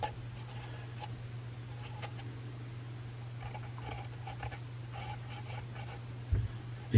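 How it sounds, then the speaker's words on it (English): A pen or pencil scratches softly as panel markings are drawn freehand onto a scratch-built model railway piece, faint intermittent strokes over a steady low electrical hum. "So I'm just drawing it freehand."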